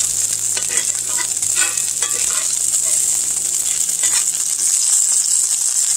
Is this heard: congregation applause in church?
no